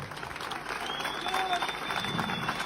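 A crowd applauds and cheers as the champion Nilüfer sports team is welcomed home. The clapping is dense and continuous, with voices mixed in and a faint whistle-like tone above.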